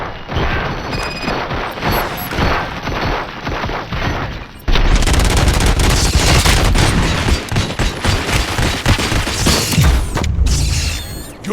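Loud, sustained gunfire in an action scene at a police station, with dense overlapping bursts and machine-gun rattle, crashes and booms. It intensifies sharply partway through and continues without speech.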